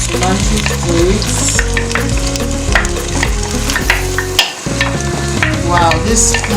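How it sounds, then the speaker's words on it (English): Tomato stirred into palm oil frying for jollof rice, with a continuous loud sizzle and repeated scraping and stirring clatter throughout, and no talking. "I'm going to stir it and add other ingredients to it. This is tomato. Adding my tomato to it."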